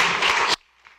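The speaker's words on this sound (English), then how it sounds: "Please give a round of applause for Munir Awad" Audience applause for a speaker at a panel discussion: a dense burst of clapping that cuts off abruptly after about half a second, followed by near silence.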